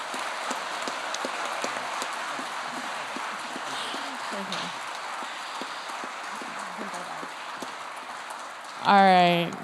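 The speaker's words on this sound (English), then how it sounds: "Now let's give them another round of applause." Audience applause fills Hart House Great Hall as a steady, dense wash of clapping that holds for several seconds before a voice cuts in near the end.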